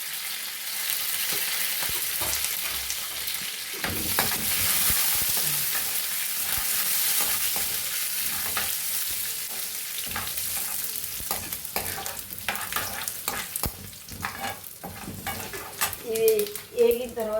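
Mustard seeds, ginger pieces, cashews and curry leaves fry in hot oil with a continuous sizzle, then scraping and stirring clatter grows busier toward the end, close and fairly loud.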